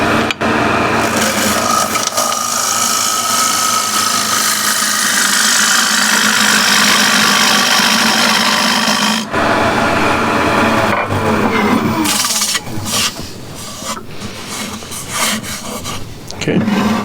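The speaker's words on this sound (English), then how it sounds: "Now this tool is vibrating a little bit too much." A wood lathe spins a walnut and ash bowl blank while a cutting tool scrapes and chatters against it. The loud continuous rasping hum runs throughout, breaking off briefly and turning more uneven toward the end.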